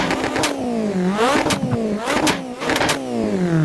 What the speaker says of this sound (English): This is going to be your favorite exhaust note.